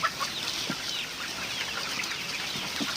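Free-range native village chickens clucking on a farm, several birds giving scattered clucks and short calls over a steady outdoor background, moderately close, with no talk.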